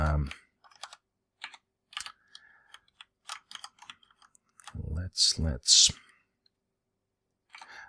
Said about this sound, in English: I'm pressing the wrong keys here.